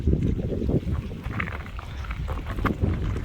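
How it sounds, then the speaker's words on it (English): Strong winter wind buffets the microphone beside Burt Lake in early January, where open water is starting to form shore ice; a loud, continuous low rumble gusts throughout with no voice. "This wind does not help. It's been very windy the last couple of days."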